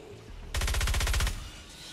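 A rapid burst of automatic gunfire lasting under a second rings out in the Fortnite Save the World video game, loud and close against quiet ambient game sound.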